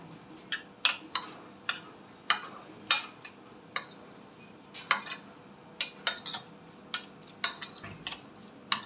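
A spoon clinks and scrapes against a bowl while ketchup and cheese filling are mixed for a bread-based veg zingy parcel, a steady run of sharp close taps at an uneven rhythm with no talking.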